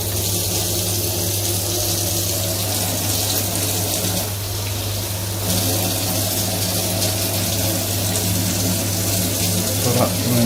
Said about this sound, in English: I'm just going to turn the tap on